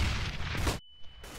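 A flashbang grenade in CS:GO goes off as a short, quiet burst of noise, then cuts abruptly to a thin, sustained high-pitched ringing tone.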